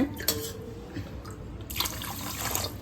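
Water is poured for gulab jamun syrup, a close, splashy trickle with gurgling pulses that surge louder in the second half.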